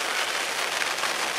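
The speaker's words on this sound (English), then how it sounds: "I don't know how long this rain's going to be set in for" Steady rain falls during a carp fishing session at Linear Fisheries' Brasenose One lake, a dense, even hiss that holds unbroken throughout with no voices over it.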